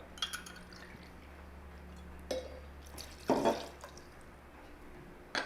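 Two ounces of tequila poured into a Paloma cocktail, a brief liquid pour with trickles and drips followed by a few light glass clinks, close and fairly quiet over a low hum.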